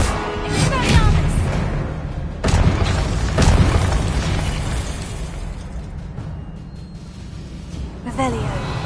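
A Hogwarts Legacy video game spell cast, the Expelliarmus disarming charm, bursts out as a loud boom followed by crackling magical effects and a second impact, with game sounds trailing afterward.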